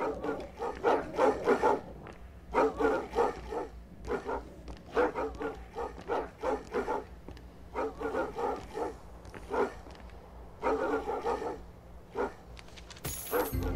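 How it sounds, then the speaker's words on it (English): Dog barking in the video game Lily: Colors of Santa Luz, repeated bursts of loud, near barks in irregular clusters over a low steady game background hum. "There is no need for all that barking."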